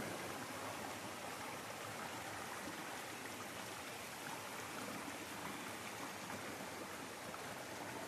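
The Rio das Pedras river at Três Cachoeiras in Penedo, RJ, flowing over rocks, a steady broadband rush of water, soft and continuous with no voices.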